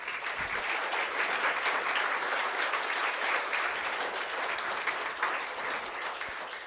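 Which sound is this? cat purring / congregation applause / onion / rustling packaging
congregation applause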